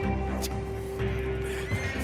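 Horses in Red Dead Redemption 2, a loud close neigh and snorting over hoofbeats and game ambience, without speech.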